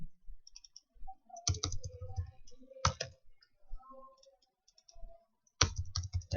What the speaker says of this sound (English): We're just typing random words